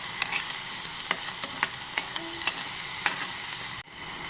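Onions and mustard seeds sauté in oil with a dense, even sizzle, punctuated by small regular pops and spoon clicks, until the sound drops away suddenly near the end, with no voices.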